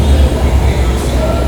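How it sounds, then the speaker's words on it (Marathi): A metro train standing at a station platform, a loud low rumble and hum close by, steady throughout with a faint squeal near the end. "इथनं ही मेट्रो आपल्या समोर उभी आहे"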